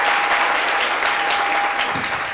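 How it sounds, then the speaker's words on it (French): Studio audience at a French-language sports talk show applauds loudly and steadily for a former Ivory Coast national team footballer taking his seat, a dense continuous wash of clapping throughout. "On l'applaudit encore très fort avant de se rasseoir."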